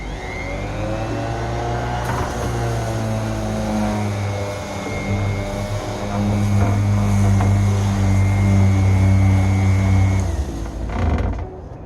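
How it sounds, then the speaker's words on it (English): A sander with a wet pad runs on a 1ZZ valve cover, a loud, steady mechanical whine with strong tonal hum that swells slightly in pitch and level midway, then cuts off near the end. "just go ahead and put it on the sander and see how that works"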